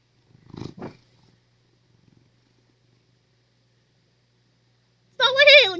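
A large, heavy house cat purrs loudly and close in a sustained, rough rumble near the end, after a quiet stretch with a few soft sounds earlier.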